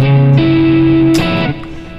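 An electric guitar with single-coil pickups rings out in sustained notes that shift pitch midway, with a brighter pick attack and a fade at the end.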